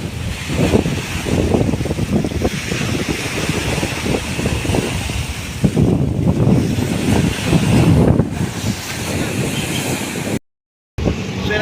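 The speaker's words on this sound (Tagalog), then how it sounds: "lakas ng hangin guys. Ayan oh. Lakas ng alon. High tide." Steady roaring typhoon wind at Manila Bay batters the microphone over crashing high-tide waves for several seconds, with a brief dropout near the end.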